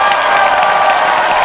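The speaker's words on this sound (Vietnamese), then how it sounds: "xin cho một tràng pháo tay nữa được mà" A studio audience at a Vietnamese TV game show bursts into loud, close applause with cheering and shouts, a dense, sustained roar of clapping.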